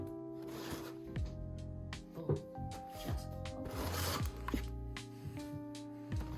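A snack box is being opened up close, with cardboard rubbing, scraping and crinkling in irregular bursts and short pauses, and no one speaking.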